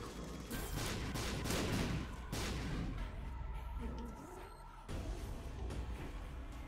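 Several troll bombs blow up in The Binding of Isaac: Repentance, a loud run of overlapping booming blasts with a brief lull and then more explosions.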